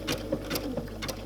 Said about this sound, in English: stitching a little bit over the top of the stitching I've done